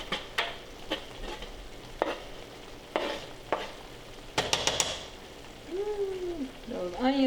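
Mushrooms and onions frying on a griddle for a cheesesteak, with soft steady sizzling under sharp scraping spatula strokes at intervals, and a person speaking briefly near the end.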